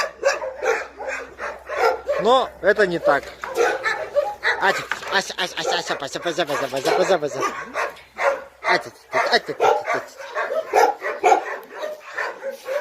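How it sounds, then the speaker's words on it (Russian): Laika hunting dogs barking and yelping in a kennel in Yakutia, with several dogs calling at close range in an irregular chorus under steady talk from a man. "с виду лайки все одинаковые собаки"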